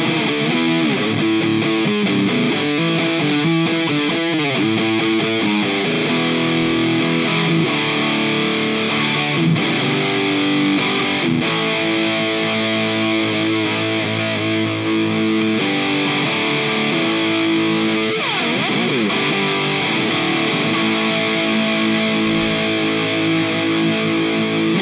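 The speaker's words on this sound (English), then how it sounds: "It's a pretty good sounding Big Muff." Electric guitar played through a Big Muff fuzz patch on a Mooer GE300 multi-effects unit, thick and saturated, with sustained chords and shifting notes ringing loud and continuous for the whole stretch, no voices.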